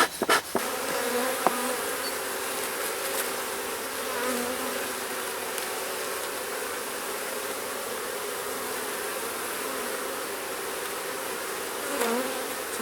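Honeybees drone in a dense, continuous buzz from an opened beehive during spring de-winterizing, close and steady throughout, with a few brief knocks at the start.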